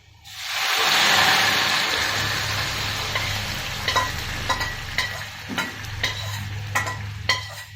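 Boiled beans and carrot tipped into a hot pan for oats upma, a loud sizzling rush at first that settles into a steady fry, punctuated by repeated scraping and stirring clicks of a spoon.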